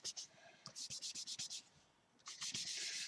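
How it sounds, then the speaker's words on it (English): A tissue is rubbed over wax crayon on paper in quick, soft scratchy strokes, close and quiet, in two bursts of rapid back-and-forth rubbing with a short pause between. "Polishing over the wax here and around the edges,"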